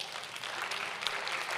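A short burst of audience applause at a live talk, dense steady clapping from many hands throughout.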